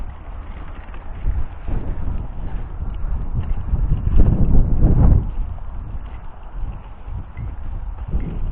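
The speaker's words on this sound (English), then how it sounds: "Oh, wind." Wind blowing across an open campsite, a steady rushing roar with gusts that swell louder for a couple of seconds, buffeting close to the microphone.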